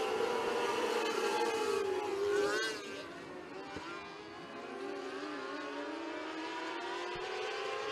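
600 sprint cars roar off at the green flag in a heat race at Gas City I-69 Speedway, a loud pack of engines rising in pitch at first, then settling into a steady distant drone as the field spreads out.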